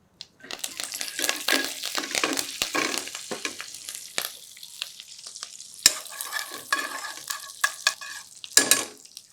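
Mustard seeds, cumin and curry leaves tempering in hot oil for macaroni upma, a steady crackling sizzle with sharp pops and spatters, stirring clatter throughout, close and fairly loud, no talk.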